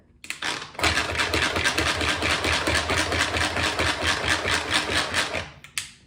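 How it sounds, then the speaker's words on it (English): A manual food processor chops sliced white button mushrooms, giving a rapid, steady whirring rattle of spinning blades that runs for about five seconds and then stops, up close with no talking. "chop it again with the manual food processor"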